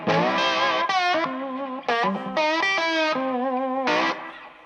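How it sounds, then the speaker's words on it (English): Electric guitar played through a small Gristle amp with floor effect pedals, distorted and chorused with reverb, a sustained melodic line of bent and held notes, loud and close with no talking. "And I'm going through my little Gristle amp, and it sounds good."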